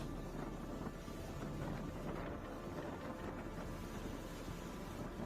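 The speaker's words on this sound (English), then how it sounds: "typhoon with destructive winds has struck Guangxi Province in China" Destructive typhoon winds lashing Guangxi Province, China, a steady, loud roar of wind buffeting the microphone, broadband and unbroken throughout with no voices.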